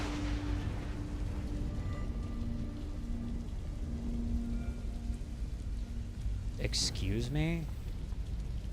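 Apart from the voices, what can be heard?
rain falling in the video game Observer System Redux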